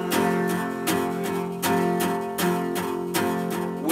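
Strummed guitar chords ring out close and loud, steady downstrokes about every three-quarters of a second with the chord sustaining between strums, no voice.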